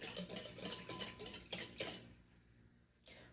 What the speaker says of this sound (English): we're gonna whisk this up until it totally dissolves and becomes frothy